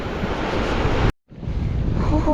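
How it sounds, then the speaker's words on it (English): Surf at a Gulf beach on Shell Key, heard as a dense, steady rush of waves and wind blowing into the microphone, briefly cut off for a moment before resuming. "waves should be depositing things at our feet for a little while"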